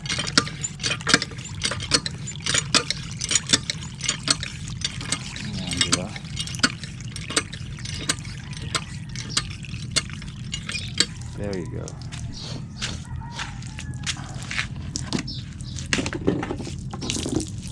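Water gushes and splashes in uneven bursts from a hand pump in Kasiguran, loud and close, while people talk over it.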